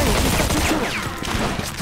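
Gunfire in Mafia II during a shootout on a stairway, with several sharp shots popping over dense background noise and scattered voices.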